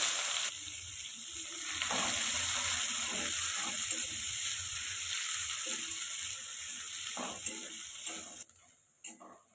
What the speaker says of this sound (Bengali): এখন ওই তেলের মধ্যে দিয়ে দিচ্ছি 1/2 চা চামচ কালো জিরে আর একটা বড় সাইজের পেঁয়াজ কুচি।